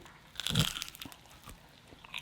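A bite into crispy duck confit skin gives one sharp, loud crunch up close, followed by a few quieter chewing crackles.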